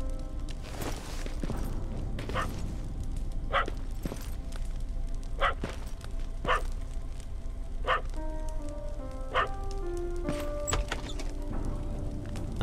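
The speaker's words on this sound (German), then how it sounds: "Süßer Hund." Dog in the video game Terminator Resistance giving a series of sharp, evenly spaced barks over steady game ambience and music, fairly close and moderately loud.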